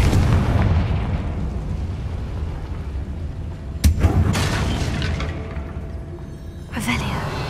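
Confringo fire spell blast in Hogwarts Legacy: a rumbling explosive boom fading over several seconds, followed by sharp bursts and another impact, loud and close amid game effects.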